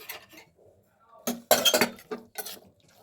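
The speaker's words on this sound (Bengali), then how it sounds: "কুকারটা তো ঠান্ডা হয়ে গেছে এবার আমি একটু খুলে নেব দেখুন" Pressure cooker lid worked open after cooling, bursts of metallic clanks and clinks of the lid and pot close by, separated by short quiet gaps.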